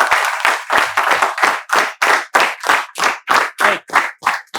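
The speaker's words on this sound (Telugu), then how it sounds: "మేమందరము మీకు చప్పట్లతో వెల్కమ్ చెప్తున్నాం" A spoken English class claps in unison to welcome viewers, about a dozen sharp group claps in a steady, even rhythm, loud and close with nothing else heard between them.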